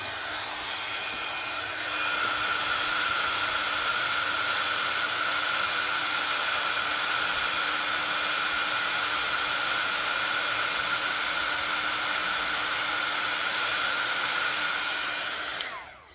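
A handheld heat tool melts clear embossing powder on a Christmas card, giving a loud, steady close-up blowing whir that holds constant for about fourteen seconds, then cuts off at the end.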